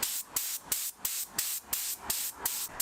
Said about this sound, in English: it's actually the first time I've ever used this spray gun